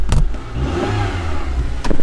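A Ford AU Falcon's engine revs up close, a throaty rising roar with a faint rattle and sharp bursts at the start and the end.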